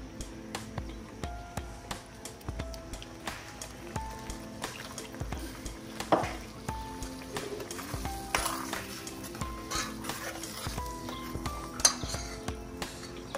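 Spices and herbs being stirred together in a pan for egg curry, giving a steady run of soft scraping and clinking of utensil against metal with occasional sharper clinks, close up and without talk.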